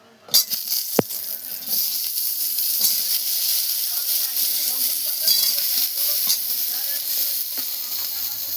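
Potatoes frying lightly in hot oil in a home kitchen, a steady broad sizzle that starts with a sharp burst and then holds evenly throughout, with a few clanks from a utensil.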